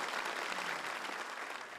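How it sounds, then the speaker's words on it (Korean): Democratic Party lawmakers applaud during a speech in the National Assembly chamber. Sustained, dense clapping is heard at a distance and stays fairly faint throughout. "연설이 끝날 때까지 민주당 의원들은 모두 19차례 박수를 보냈습니다"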